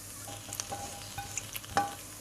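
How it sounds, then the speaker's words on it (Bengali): Rice and chicken fry in ghee for a vegetable chicken biryani. A steady soft sizzle runs under repeated stirring scrapes, and a sharper clink of the spoon lands near the end. "আরও 2 মিনিট চাল ভেজে নিচ্ছি।"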